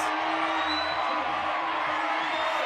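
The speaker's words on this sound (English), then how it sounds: "You can hear the crowd." Spectators at a lead climbing semi-final in Chamonix cheer and whoop in a sustained roar, a steady wash of crowd noise with occasional yells rising above it.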